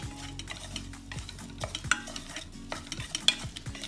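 Onion stirred in melted butter in a pot for pumpkin soup: a soft continuous sizzle broken by repeated close scrapes and clinks of a spoon against the pan, with no voices.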